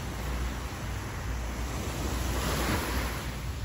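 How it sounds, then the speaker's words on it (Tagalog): Ocean surf washing onto a seashore makes a steady, full roar with a hiss of wind across the microphone throughout, and no voices. "Makikita mo lang yung dagat."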